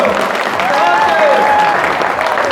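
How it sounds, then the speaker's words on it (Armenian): Guests clap at a wedding celebration marking a couple's 50th anniversary, with steady, dense applause that fills the room continuously. Melodic music plays underneath. "ծափեր տվեք տենակ լավ է տրամադրությունը"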